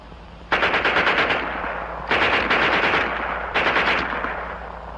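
A World War II German MG42 machine gun fires three long, extremely rapid bursts, loud and harsh, with short pauses between them and no voices.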